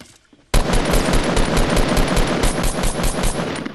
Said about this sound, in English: I heard shots.